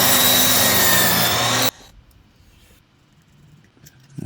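A power saw cuts angled ends on 10-inch wood pieces for a game board build, giving a loud, dense cutting burst that stops abruptly, followed by quiet handling and a faint noise rising at the end.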